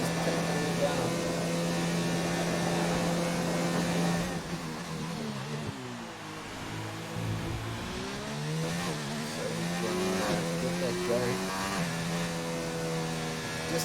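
Race car engines in an online sim racing event at the Russian GP, a continuous high revving whine with rising and falling pitch as cars pass, under ongoing commentary.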